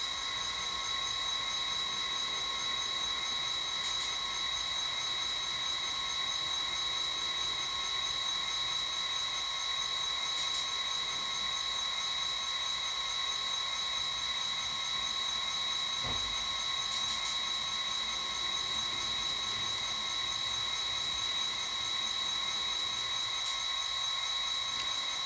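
Santa Fe locomotive number 40 hauling passenger train number 8, the Brazos Valley Special, gives a steady, even mechanical drone with a faint whine that holds unbroken throughout, with no voices.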